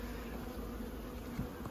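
Honey bees crowd over hive frames in the middle of a strong nectar flow, drawing out fresh comb. A dense, steady close-up hum fills the whole moment with no voices.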